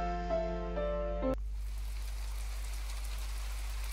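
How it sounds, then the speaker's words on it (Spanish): After a short musical jingle cuts off, steady rain falls in the video game My Time at Portia, an even soft hiss over a low constant hum. "Está lloviendo hoy."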